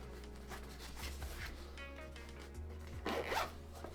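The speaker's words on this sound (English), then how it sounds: "Unzip this." A zipper on a Beats Studio Pro headphone travel case is pulled open in a steady rasping run, close up, with soft handling rubs before and a brighter burst of zipping near the end.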